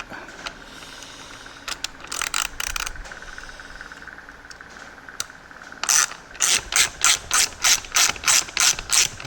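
A ratchet fitted with a 13mm socket turns a bolt on a Ducati Hypermotard 821 motorcycle, giving scattered clicks early on and then a steady run of loud, close, rhythmic ratcheting clicks with no talking.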